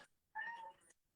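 A single clear meow from a house kitty, close and fairly loud, rising then trailing off in a kitchen with no talk.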